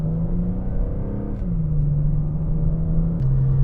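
Steady low road and tire roar inside a G82 BMW M4 Competition xDrive, a constant droning rumble with slight shifts in pitch as the car rolls along, with no talking.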